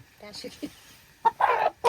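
A local village rooster clucks nearby in a few short, loud bursts, with quieter murmuring sounds before them.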